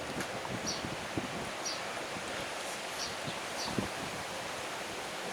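Wind buffeting outdoors during work on LED tail, brake and turn signal lights for a '97 bike, a steady broad rush with soft low thumps and gusts, moderately loud and close.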